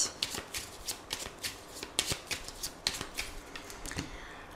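Lenormand fortune-telling deck being riffled and shuffled by hand before a nine-card spread, a close, crisp flurry of papery flicks in quick repeated bursts, with no talking.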